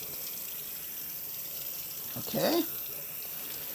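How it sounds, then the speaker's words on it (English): A kitchen tap runs while strawberries are rinsed beneath it, giving a steady, even hiss of flowing water throughout, with a brief spoken word partway through. "So let me go ahead and turn the water off."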